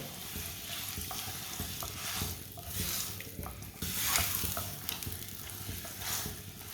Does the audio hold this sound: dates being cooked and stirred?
yes